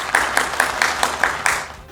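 Scattered clapping from a small audience greeting Bishop Jonathan Rehmat at a church programme, about six distinct claps in an uneven rhythm, close and moderately loud, fading out toward the end.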